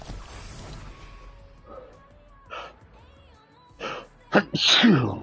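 Bursts of sneezing near the end, loud and close, come after a quieter stretch of breathy sounds and faint noises.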